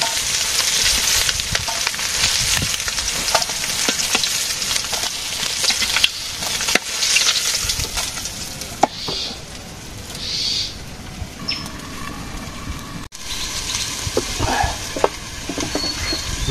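Bitter gourd frying in a pan, giving a steady, dense sizzle with occasional crackles and stirring clicks that continues throughout, close and prominent, with faint bird calls in the background.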